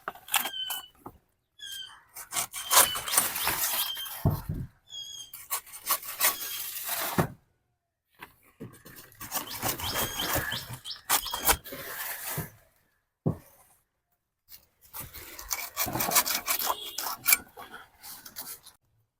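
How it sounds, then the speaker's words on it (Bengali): A knife cuts a banana blossom from a banana plant at home, making repeated bursts of rough, rasping sawing on the fibrous stalk. The strokes come close and fairly loud, with short silent gaps between them. "এই হলো মোচাটা আমি কাটছি"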